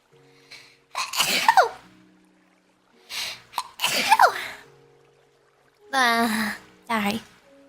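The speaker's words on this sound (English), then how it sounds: "I actually sneeze quite a bit." A woman sneezes twice, each a loud, close, breathy burst a few seconds apart, then she talks briefly in a high voice in an otherwise quiet room.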